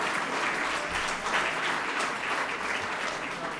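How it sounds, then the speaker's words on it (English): An awards-event audience at the 2022 Innovation Spotlights claps steadily, a dense, even wash of applause at moderate loudness throughout, with no one speaking over it. "So one more round of applause."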